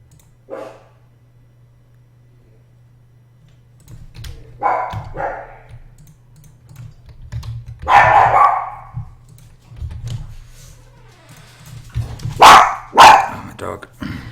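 A dog barks several times in short bursts, moderately loud, with a steady low electrical hum underneath and some background voice activity.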